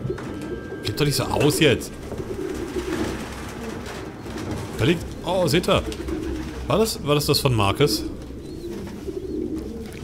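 Pigeons cooing in the video game Detroit: Become Human, repeated throaty coos in several bursts, close and fairly loud, with someone talking in German between and over them.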